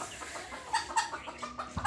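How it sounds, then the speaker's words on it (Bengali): A local deshi chicken clucking close by in a series of short, repeated clucks, with no talk over it. "এটা দেশি মুরগি।"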